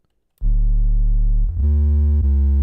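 A deep, buzzy sine-wave synth bass with light distortion and slight grit sustains loudly, shifting pitch a couple of times as the note changes.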